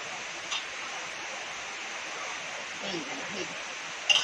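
Heavy rain falls outside a home kitchen as a steady, soft hiss with no breaks. A few faint knocks and clinks sound briefly over it.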